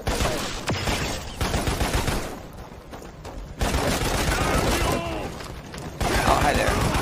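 In the video game Lost Planet: Extreme Condition, dense rapid gunfire and clattering mechanical noise pound almost continuously at fairly loud volume, with short lulls between bursts and a voice speaking over the action.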